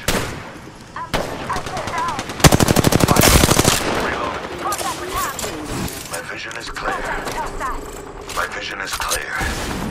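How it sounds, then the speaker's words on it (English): Automatic weapon fire and single shots in Apex Legends, with a loud sustained burst of rapid rounds near the middle and scattered shots through the rest, mixed with game effects and voices. "A second squad is firing at us."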